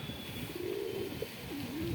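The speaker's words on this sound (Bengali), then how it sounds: "যা পায়রা দেখছেন খুব সুন্দর সুন্দর ভালো ভালো পায়রা আছে" Pigeons in a home loft cooing softly, a few low warbling calls rising and falling over a steady hum of background noise.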